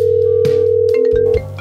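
A telephone dial tone sounds as a steady, loud electronic hum that cuts off after about a second and a half, with no voices.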